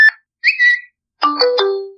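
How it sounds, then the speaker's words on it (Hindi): Fire-Boltt Vogue smartwatch ringtone: short electronic melodic chimes in three separated phrases, the last a held descending tone, clear and alone. "और इस वॉच में आपको 3 रिंगटोन अवेलेबल मिल रहा है,"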